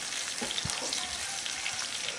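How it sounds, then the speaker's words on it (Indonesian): Soaked melinjo skins fry in hot oil in a pan with a steady crackling sizzle, and a few soft scraping knocks come from stirring. "sekarang kita akan masukkan kulit melinjonya"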